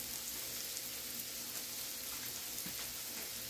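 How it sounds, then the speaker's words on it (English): Onions and celery sauteing in a pan, a steady close sizzle and crackle with no talk. "And we're just gonna saute it."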